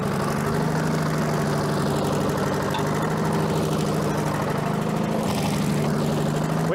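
An old Allis Chalmers track loader, left sitting for many years and now leaking fuel and low on coolant, runs at a steady, loud, rumbling idle with an unbroken engine drone throughout.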